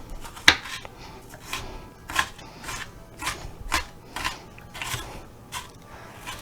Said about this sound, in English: So we're just getting them and just chopping them down.